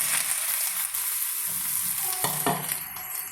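Raw plantain pakkavada stirred in hot frying oil gives a steady, close sizzle with a few scraping strokes of the spoon near the end, no voices.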